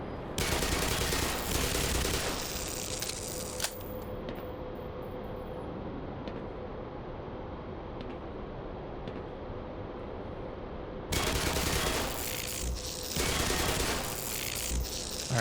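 Automated turrets in the game Black Mesa fire long continuous bursts, loud and dense, with a quieter stretch in the middle before the firing swells again.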